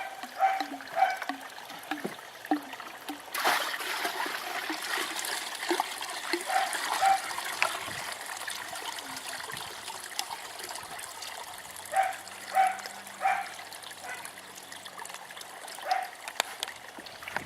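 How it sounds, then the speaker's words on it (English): Water is poured off from a sluice bucket during gold prospecting, a continuous splashing, gurgling pour with irregular sloshes and some knocks, ending in dribbles and trickles. "Next we'll pour off this water."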